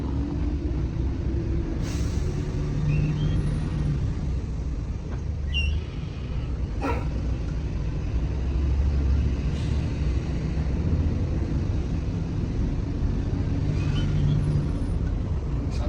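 An Indonesian SPS Liner sleeper bus, the New Surabaya Indah, drives on through the night with a continuous low engine and road rumble heard from inside the cabin, broken by a few brief clicks and rattles.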